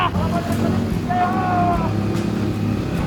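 Motorbike engine labouring uphill on the road up to Chittorgarh fort, a steady close drone under wind, with people talking and cheering over it.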